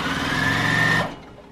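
A sewing machine stitching corner to corner across a rag quilt square with white thread, a close, steady mechanical whir for about a second before it stops and the room falls quiet.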